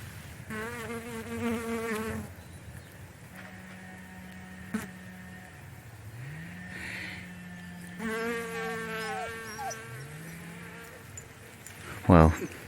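A bee buzzes steadily and close at gorse flowers outdoors, while a dog whines in drawn-out, wavering bursts near the start and again later, ending with a brief louder sound.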